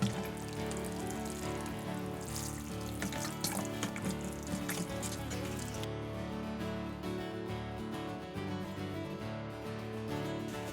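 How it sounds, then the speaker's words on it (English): Broccoli microgreens are watered, giving a soft, continuous trickle and splash of water that stays fairly quiet and close, with no talking. "Now we're gonna water this."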